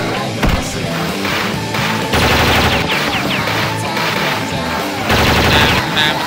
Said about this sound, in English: Automatic weapons and everything else.